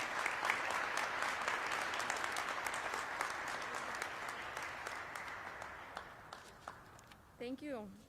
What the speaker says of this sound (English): So a big round of applause, because she had a lot of work to do to Director Sylvia Garcia.